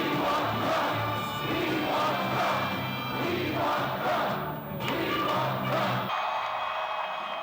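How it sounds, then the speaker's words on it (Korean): Some six thousand supporters packed into an indoor gymnasium cheer and roar as Trump enters a rally, a dense, sustained crowd of shouting that holds loud and then drops off abruptly near the end. "실내 체육관을 가득 메운 6천여 명의 지지자들이 트럼프 전 대통령의 등장에 환호합니다"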